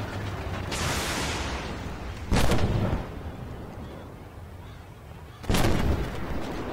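Tank main gun firing in the Armored Warfare video game with a damaged ammo rack: two loud booming cannon shots about three seconds apart, each rolling out over steady engine and battle rumble, with no speech.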